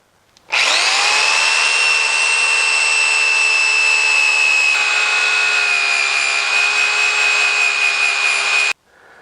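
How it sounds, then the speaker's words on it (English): A right-angle drill fitted with a 150-grit sanding disc runs steadily against a natural-edge wooden bowl, giving a continuous high whine with gritty rubbing for about eight seconds before stopping abruptly. "This is a 150 grit sanding pad, sanding disc. Going to attach to my sanding right angle drill"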